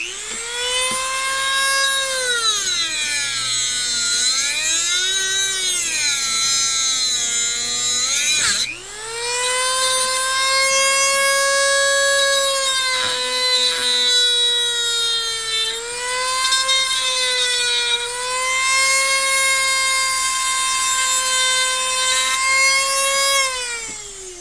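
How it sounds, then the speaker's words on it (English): A Dremel cutting wheel slices through flex cable for a Pro Boat SONICWAKE RC boat, a loud, steady high-pitched whine that dips and rises in pitch as the wheel loads up, with one brief break before resuming. "I tell you what I use to cut my flex cable. Almost every single build video, it's just a cutting wheel"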